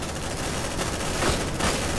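Dense bursts of gunfire rattle through a fight in the Aliens: Dark Descent video game, overlapping shots forming a continuous, busy barrage at a moderate level.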